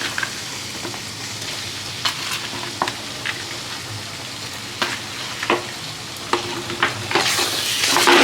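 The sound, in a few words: capsicum and paneer being stir-fried in a pan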